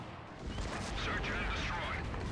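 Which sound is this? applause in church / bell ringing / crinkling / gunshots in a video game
gunshots in a video game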